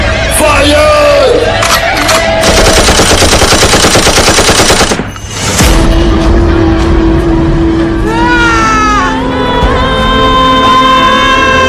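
A dense gunfire volley rattles out like machine-gun fire in a loud battle scene, with crowd shouts and war cries around it, then a brief dip and ongoing noisy commotion.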